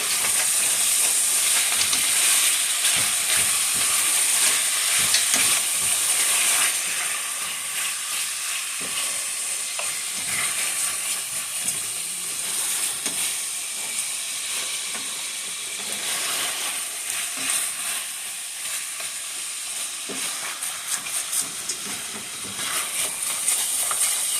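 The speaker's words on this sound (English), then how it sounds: "Now I'm going to go ahead and add the sauce." Sauce goes into a hot pan of glazing sparerib tips and sizzles loudly at first, then hisses and bubbles steadily with crackling pops. The frying carries on close-up for a long stretch, easing slightly but never stopping.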